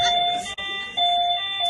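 A broken electronic doorbell plays a tune as a thin, steady, high electronic tone, briefly cutting out partway through and then resuming, close and fairly clear.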